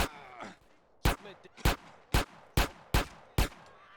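Seven sharp gunshots crack out in Grand Theft Auto: San Andreas, spaced at an irregular rhythm of about two per second, each loud and punchy against a quiet background with faint game noise.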